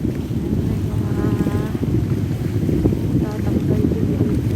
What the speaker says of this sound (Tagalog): Masarap talaga mamasyal pag ganito yung panahon, makulimlim. Tapos mahangin.